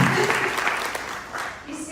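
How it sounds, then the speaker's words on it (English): An audience at a talk on empowerment claps in a brief burst of applause, with voices mixed in over the clapping. "I think we should give her a round of applause."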